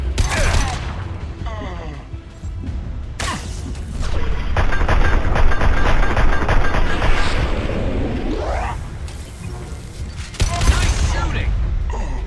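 Loud gunfire rattles through a Mass Effect 2 firefight, with sharp shots at the start, a long sustained burst in the middle and more hard bangs near the end, close and dominant.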